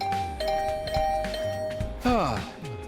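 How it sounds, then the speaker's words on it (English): A video game doorbell rings in a rapid barrage of chimes, with a sharp, bright burst near the end over steady background game music. "The sudden barrage of doorbell rings took me by surprise"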